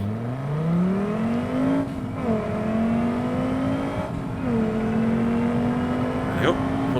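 A car engine accelerates hard in a racing video game, its steady whine climbing in pitch, dipping briefly at gear changes, then rising again, loud and close throughout.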